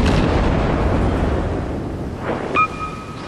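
Warship guns fire in the World of Warships video game, heard as a heavy continuous roar of low booms blended with sea and wind noise, fading gradually before a brief sharp burst near the end.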